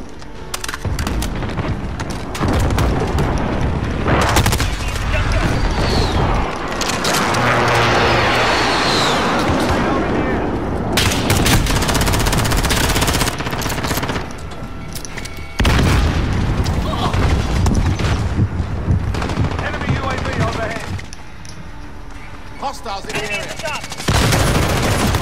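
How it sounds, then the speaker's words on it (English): Enemy precision airstrike in a multiplayer shooter game: loud repeated booming blasts and bursts of gunfire close by over about 25 seconds, with short quieter gaps and voices talking at times. "Enemy precision airstrike, take cover."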